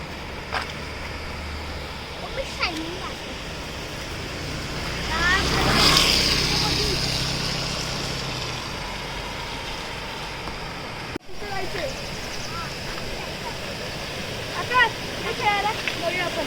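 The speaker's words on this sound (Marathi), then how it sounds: "ही आमच्या गावची नदी" A village river in the Konkan during the monsoon rushes steadily as a broad, continuous roar of flowing water, with someone talking over it nearby.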